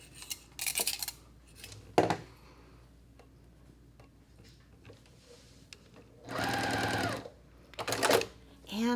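A home sewing machine stitches a tiny Ohio Star variant quilt block in short bursts. Its rapid needle chatter comes in two runs near the end, amid clicks and handling noises, with a voice speaking briefly in between.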